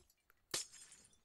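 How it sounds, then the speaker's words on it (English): Glass breaking in the Minecraft video game: a single sharp crash at about half a second, bright and crisp, followed by a brief tinkling decay over a quiet background. "Ah, the sounds of breaking glass. Nothing more soothing than the sound of shattering glass."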